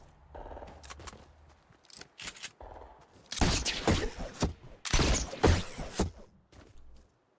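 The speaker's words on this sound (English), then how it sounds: "Gunshots." Several bursts of rapid gunfire in a Fortnite Battle Royale match crackle loudly, each a cluster of sharp shots, separated by brief quieter gaps with faint background sounds.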